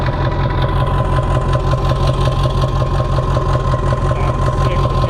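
A Ford OBS 7.3 Powerstroke diesel fitted with a hood stack idles close by, a loud, steady low clatter with an even rhythmic pulse throughout and no talking.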